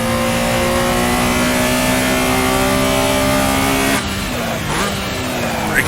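A Porsche RSR 74 race car in a racing simulator accelerates hard, its engine note climbing steadily through the gears with a loud rising whine, then dropping sharply at an upshift before pulling again.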